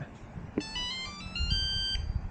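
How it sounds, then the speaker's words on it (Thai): Shrill electronic beeps from an old gate remote base in a short stepped pattern of pitches ring out over low background rumble and handling noise, with a click at the start. "มีเสียงด้วยเว้ย อันนี้คือฐานเก่านะครับ มันดังตืดตๆๆมาประมาณ สองอาทิตย์แล้วล่ะ"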